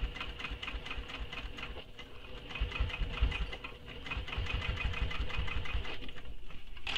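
A sewing machine stitches a shoulder bag seam at a steady, rapid whirring rhythm with a mechanical chatter, running continuously and close without talk.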